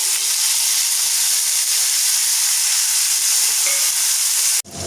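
Two cut tomatoes hitting a hot pan of fried dal for chutney, giving a loud, steady, close hiss of steam and frying that holds almost unbroken before cutting off abruptly at the end.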